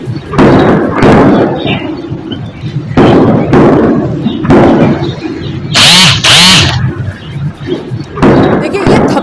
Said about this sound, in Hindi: यही वो धमाकों की आवाज है,